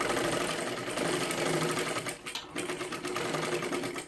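A sewing machine stitches a princess blouse, a fast steady mechanical whirr running continuously with a brief slowdown midway, close and loud.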